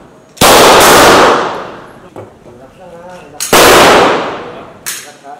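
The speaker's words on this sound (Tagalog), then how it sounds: "You may start firing now." Two loud, close gunshot blasts at a 10-meter shooting practice, about three seconds apart, each with a long ringing decay; a voice speaks quietly between them.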